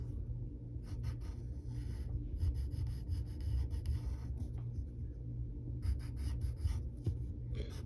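Pencil scratching steadily on paper while darkening in a cartoon frog drawing, close and continuous with short rhythmic strokes over a low background rumble.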